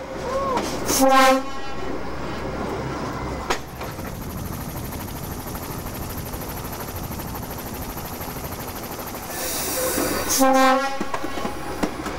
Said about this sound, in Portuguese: o trem faz uma breve parada para o desembarque de quem vai visitar o parque